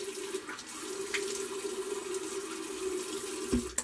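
A tap runs steadily into a sink to wet the face while shaving with a Parker adjustable razor, a soft continuous splash with a faint clink near the end.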